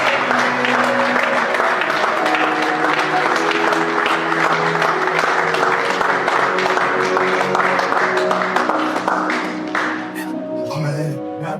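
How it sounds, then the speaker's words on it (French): Church congregation at a ministerial consecration service in Annemasse applauding and acclaiming the Lord, steady sustained clapping and cheering over loud music and voices, fading slightly near the end. "nous acclamons le Seigneur"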